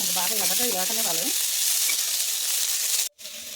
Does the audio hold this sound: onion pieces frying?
yes